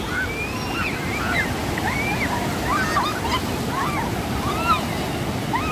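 Ocean waves wash steadily onto a wild sandy beach in Buguey, Cagayan, Philippines, in a continuous rushing roar, with light wind noise and scattered high chirps above the surf.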